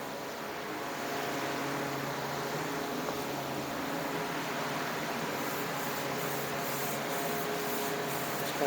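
A hand rubs polish around on an airplane exhaust surface, making a continuous close, soft abrasive hiss with an even, sustained texture and no talking.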